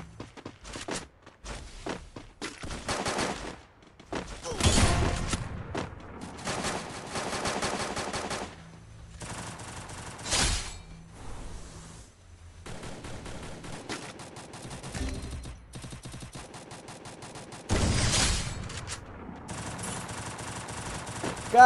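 Gunfire in a Counter-Strike match: bursts of rapid automatic shots and single cracks break out repeatedly, with quieter gaps and footstep-like movement between volleys, the loudest bursts near the middle and close to the end.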